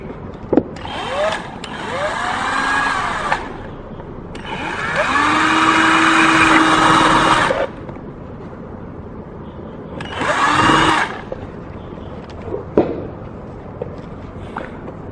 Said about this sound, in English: It's important to drill from the top because we want to maintain the surface clean.